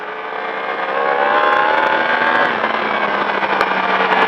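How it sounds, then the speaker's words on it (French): Yamaha R1 motorcycle on a track, engine revving hard on the throttle with a loud, sustained rising whine that swells and holds, close and alone without talk. "Allez, petit coup de gaz entre les deux droites."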